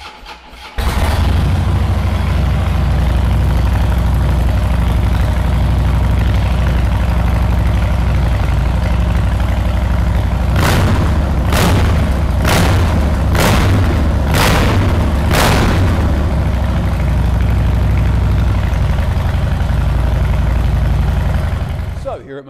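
A Harley-Davidson FXSB Softail Breakout 103 V-twin with Vance Hines big radius pipes starts and idles with a deep, loud rumble, punctuated by a series of sharp revving blips midway before settling back to idle.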